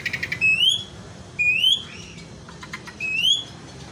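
An Asian pied starling (jalak suren) at a bird kiosk gives three loud, clear rising whistles at regular intervals, each followed by a pause, with faint chatter and background noise between calls.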